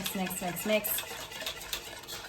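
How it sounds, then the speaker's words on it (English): A spoon or whisk stirs an egg mixture for pasta carbonara in a bowl, giving close, steady scraping and clinking strokes, with no speech over it. "you're gonna mix it so that it doesn't make the egg, like eggy"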